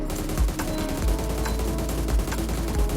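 Rapid automatic gunfire from a weapon at the shooting range in PUBG Mobile rings out in repeated bursts, loud and close, with a steady rhythm of shots and no speech.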